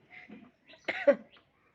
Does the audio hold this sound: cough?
yes